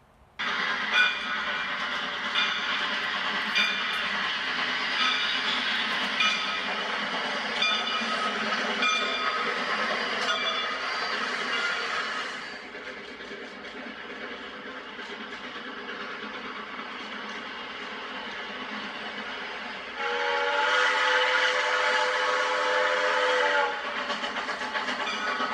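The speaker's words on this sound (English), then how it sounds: "You want to watch for this train to come and watch the sound it makes." A train rumbles steadily past at close range, clattering on the tracks, then a long loud whistle blasts near the end.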